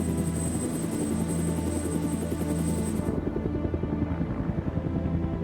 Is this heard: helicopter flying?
yes